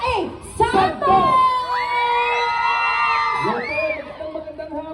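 Cheering and high shrieks rise from a large concert crowd in Cavite, with a loud burst at the start and sustained whoops and yells carrying through, punctuated by more bursts near the end.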